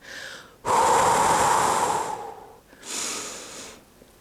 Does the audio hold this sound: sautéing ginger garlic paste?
no